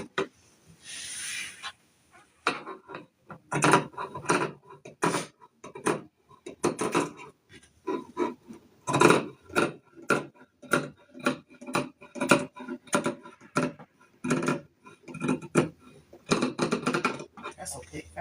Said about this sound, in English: Then I'm going to cut this out. Same way I cut my other piece out.